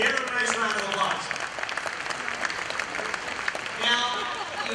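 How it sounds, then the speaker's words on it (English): Audience at a charity auction dinner applauding, a steady round of clapping from a room-sized crowd lasting several seconds, with a voice speaking over it near the start and end. "Give them a nice round of applause."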